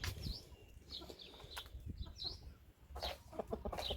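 Hens clucking in short, scattered calls over a low rumbling background, with a few brighter squawks standing out near the end.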